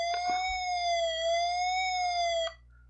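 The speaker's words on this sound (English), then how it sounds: "Whenever that siren sound appears, it doesn't seem to actually do anything that I can see." A synthesized siren effect from a BASIC computer program plays as a pure, tonal electronic wail, wavering gently in pitch for about two and a half seconds before cutting off abruptly.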